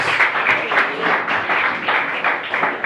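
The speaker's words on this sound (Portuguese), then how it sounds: "Com as suas palmas, possa se assentar e glorificar o nome santo de Jesus" A church congregation claps steadily for a few seconds, a dense, continuous patter of applause with no voices over it.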